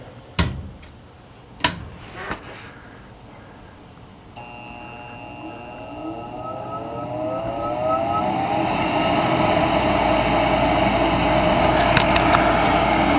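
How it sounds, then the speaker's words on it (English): A Goodman Amana gas furnace answering a call for heat: a few sharp clicks from its negative pressure switches, then a draft inducer blower whirring up with a rising whine and settling into a steady close hum. "If you heard a faint click click, those are these negative pressure switches"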